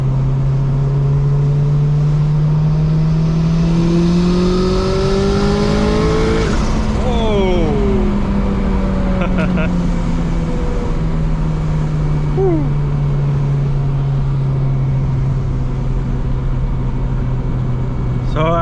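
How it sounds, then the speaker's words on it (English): A turbocharged, roughly 350 hp Honda Civic coupe accelerates hard through the gears on a road in Greece. The engine note rises steadily from inside the cabin, with gear changes and falling whistling turbo tones, loud and continuous throughout. "So I hope you can hear the turbo."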